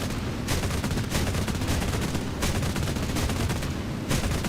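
Machine gun fire in War Thunder: rapid repeated bursts with sharp cracks roughly every half second over a loud, continuous combat rumble, close and without talk.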